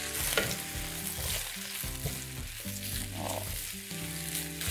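Chopped vegetables stir-fry in rice bran oil in a frying pan for curry rice, a steady loud sizzle with scraping stirs throughout and no talk.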